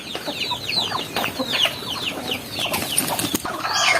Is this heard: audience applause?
no